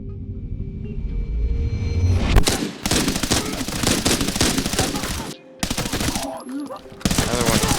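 Full-auto M16 fire in the Arena Breakout Infinite video game: loud sustained bursts of rapid shots, split by short pauses, with a low rumble at the start.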